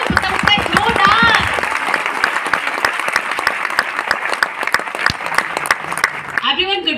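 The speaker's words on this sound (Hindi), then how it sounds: "एक बार जोरदार तालियां आप सबके लिए।" Loud audience applause rolls through a business gathering, thick clapping that starts under a presenter's voice and continues steadily until another speaker begins at the end.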